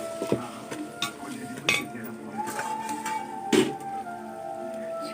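Chicken leg pieces tipped into a pot of sautéed masala for biryani, giving several sharp metallic clinks and clatters of spoon against the pot over a low sizzle, with a voice talking.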